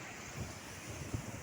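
Floodwater rushes over flooded paddy land after heavy rainfall, a steady roaring wash with low thumps, mixed with wind buffeting the microphone.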